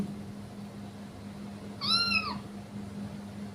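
A cat's meow played from a children's educational learning app, a single drawn-out mewing call at mid-clip over a steady low electrical hum, no talk.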